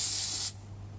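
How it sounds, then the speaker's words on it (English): Cooling spray hisses from an aerosol can in a short, loud, steady burst that cuts off abruptly, leaving a low hum behind. "Now, I've got some cooling spray here. I'm just going to see if it goes off."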